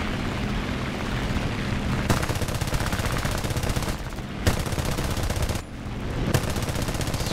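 An aircraft's machine guns in War Thunder fire in three long, loud bursts of rapid rattling gunfire over a steady engine drone, with short pauses between bursts.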